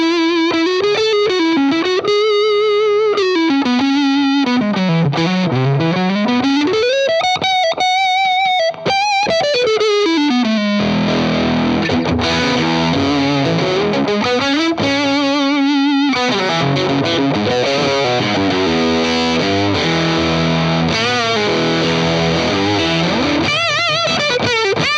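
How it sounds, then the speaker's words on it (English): Electric guitar played through a JAM Eureka fuzz pedal gives a thick, saturated distorted tone, with sliding melodic lines and sustained chords over roughly twenty-five seconds, loud and continuous with no talking. "Then we've got the Eureka, which is a great fuzz."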